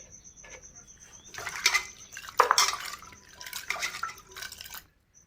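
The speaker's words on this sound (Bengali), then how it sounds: "আদা আদা রসুনগুলো ধুয়ে টুয়ে রেখে তারপর রান্না করতে যাব।" Ginger and garlic washed by hand in water in a village kitchen, with a few bursts of splashing and dripping over a quiet background and no talk.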